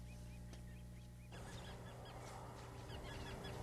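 Resident Canada geese honk at a wildlife refuge wetland in Maryland, a flock calling in repeated nasal honks that grow busier midway, moderately distant over a steady low rumble.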